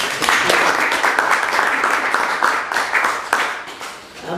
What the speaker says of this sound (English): Can we give a round of applause, please?